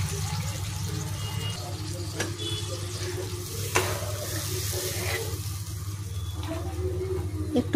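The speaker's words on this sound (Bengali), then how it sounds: "এবার দিয়ে দেবো দুধ, জল দেইনি" Milk added to a pan of spiced water for chilli paneer bubbles and sizzles steadily with a watery churn and occasional soft clinks, close by, with no talk.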